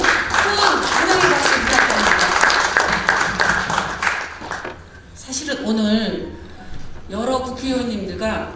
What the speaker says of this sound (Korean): 우리 김성곤 이사장님 큰 환영의 박수 부탁드립니다.